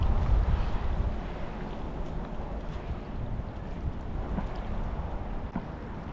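Strong wind gusts across a pond on a stormy day, a continuous low rumbling roar with buffeting against the microphone and no voices.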